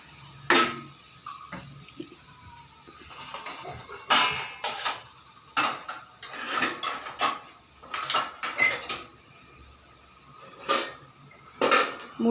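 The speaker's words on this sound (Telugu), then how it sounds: "మూడు స్పూన్లు వేస్తానండి కారం" A metal spoon clinks and scrapes against a pot while chili powder is added, giving sharp, irregular taps and knocks spread across the stretch, close and fairly loud, with quieter gaps between.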